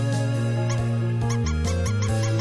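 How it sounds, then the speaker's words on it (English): Squeaking in the video game Undertale, a series of short, bright chirps over a steady tonal game music track, repeating every few tenths of a second and standing out clearly. "Oh, I hear a little squeaking."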